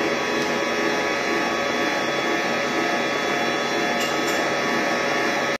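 A stand mixer runs at speed 3 kneading bread dough for smoked bread, a steady loud motor whir with a constant drone throughout and no talk.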